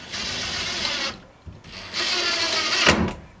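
A screw gun drives screws into a small wooden door, with two loud whirring bursts separated by a brief pause and a ratcheting edge as each screw seats.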